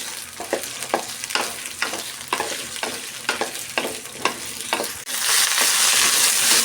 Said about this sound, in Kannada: ಬೆಂಡೆಕಾಯಿನ ಹುರಿಯೋದಕ್ಕೆ ಸೇರಿಸ್ತಾ ಇದ್ದೀನಿ. ಸ್ವಲ್ಪ ಫ್ಲೇಮ್ ಕಡಿಮೆ ಇಟ್ಕೊಂಡು ಚೆನ್ನಾಗಿ ಹುರಿಬೇಕು ಇದನ್ನು